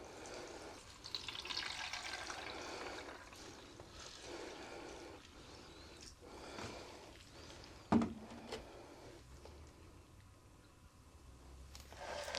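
Water flows steadily through a plant pot in a pond setting, a soft continuous trickle and splash with one sharper knock partway through, faint and close, no voices.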